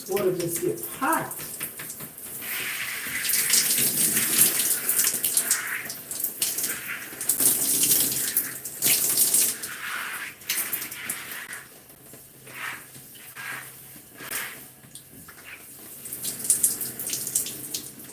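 Hot water runs steadily from a tap into a sink, a continuous hissing splash that swells and dips, with talk at moments.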